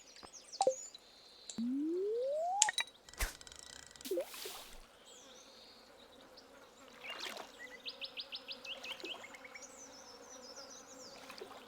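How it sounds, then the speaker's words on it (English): Soft in-game bird chirps and twittering from Stardew Valley play among other game effects like rising tones and a buzzing insect-like sound, with a rapid chirping series near the end. "I love games that incorporate like the good sounds, like the birds and everything"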